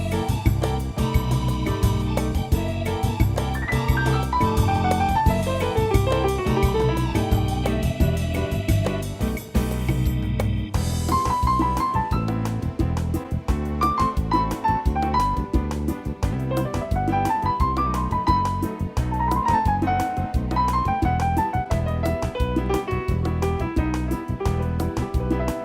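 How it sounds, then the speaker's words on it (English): Yamaha DGX 660 88-key portable digital piano playing a bossa nova style accompaniment, with a lilting melody over steady rhythmic backing and bass, sustained and even in volume, with a brief break near the middle. "Now I can play something with a bossa nova feel that sounds like this."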